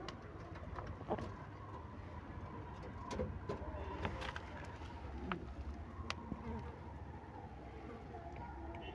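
Domestic pigeons coo softly around a loft, low murmuring calls over a steady hum of distant traffic.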